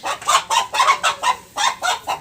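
Chickens cluck close by in a quick, rhythmic series of about eight loud, separate clucks, with a short pause midway and no talking.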